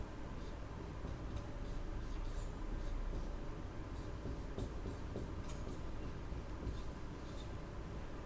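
Writing erased from a board, a faint, continuous scratchy rubbing with small scraping strokes under a steady noisy background.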